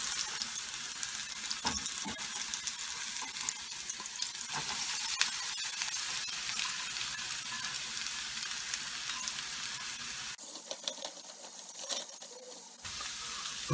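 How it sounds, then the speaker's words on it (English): Chopped onions frying in a pan with plenty of oil, a steady close hiss and crackle of sizzling that runs throughout with small pops and a brief stir or shift near the end, no voices. "Go ahead and cook up my onions here."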